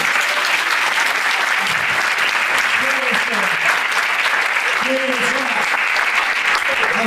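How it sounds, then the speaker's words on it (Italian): A theater audience at a comedy show gives loud, sustained applause throughout, with a few voices calling out underneath. "Applauso!"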